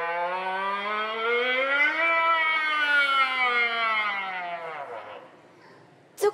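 An instrument imitates a siren with one long, loud, rising-then-falling wail lasting about five seconds, rich in overtones, fading out before a brief knock at the end, heard alone in a concert hall.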